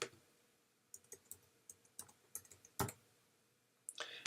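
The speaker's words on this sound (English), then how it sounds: "Now I have to type in my information, so I'm going to do that right now." Keys on a computer keyboard are tapped in short irregular bursts of soft clicks, close but faint in a quiet room, with a few slightly louder keystrokes.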